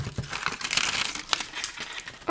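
Layers of wrapping on a surprise parcel crinkle and rustle as they are pulled apart by hand. The bursts are close and fairly quiet, with sharper crackles mixed in.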